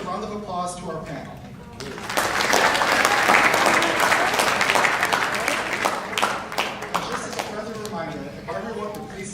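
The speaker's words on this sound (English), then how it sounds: "Let's give a round of applause to our panel." An auditorium audience at a high school poetry recitation competition applauds the judging panel, with steady clapping that swells after a moment of talk and then fades as speech returns.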